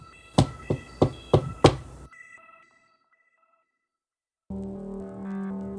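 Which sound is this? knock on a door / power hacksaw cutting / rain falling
knock on a door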